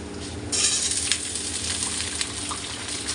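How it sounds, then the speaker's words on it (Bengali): Potato pieces fry in a pan with a steady, moderate hiss that swells suddenly after a quiet start and holds on with small crackles. "এই যে আলুটা ভেজে নিচ্ছি দেখো"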